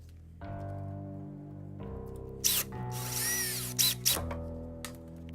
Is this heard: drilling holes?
yes